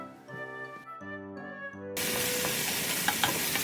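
Tonal hum at first, then a sudden loud burst of broadband sizzling as chicken ramen toppings fry in a pan, with a few faint scraping clicks.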